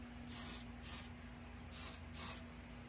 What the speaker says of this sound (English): I'm taking a little hairspray.